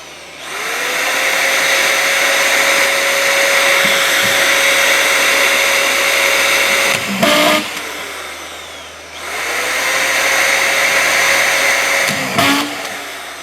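Screw gun driving strip-fed screws into Advantech subfloor, two long whining motor runs each ending in a brief rattling clatter as a screw seats, loud and close.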